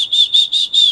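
A voice making four short, high whistling hisses in a row, evenly spaced and clear, imitating the whistled sibilant quality of an Arabic letter in Quran recitation.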